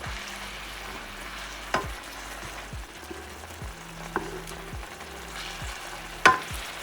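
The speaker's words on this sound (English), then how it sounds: "Still cooking at high heat. You want those juices and the sauce to get into the meat and the onions, the thyme." Flanken-cut beef ribs with onions and thyme cook in soy-balsamic sauce over high heat, giving a soft continuous sizzle broken by occasional sharp clinks and scrapes of stirring.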